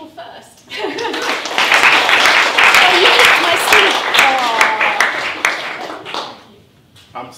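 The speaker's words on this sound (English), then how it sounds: "you've all started clapping first, and I haven't finished yet, and you started clapping" An audience at a business talk claps enthusiastically, building to a dense burst of applause that holds several seconds and then tapers off, with some chuckles and a voice speaking over it.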